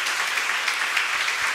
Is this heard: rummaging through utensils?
no